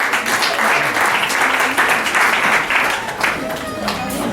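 An audience at an annual general meeting claps steadily and loudly throughout, a dense sustained round of applause with faint voices underneath.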